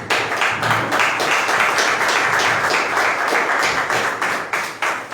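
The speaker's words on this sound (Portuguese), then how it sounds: "e as palmas ao Senhor." Church congregation clapping during a communion service, continuous loud rhythmic applause from many hands throughout, no voices over it.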